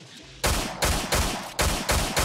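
Gunfire in the survival video game Miscreated, about six loud, close shots spaced roughly a third of a second apart, each a sharp crack with a booming low end, following a brief quiet moment.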